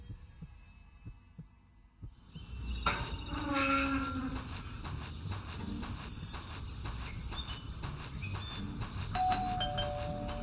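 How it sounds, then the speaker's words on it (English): A doorbell rings repeatedly inside the Scary Teacher 3D video game, sounding as a steady series of chimes over busy game music and effects, with no talking. "There goes that stupid bell again."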